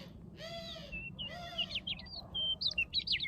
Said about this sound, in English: That was a loud pigeon.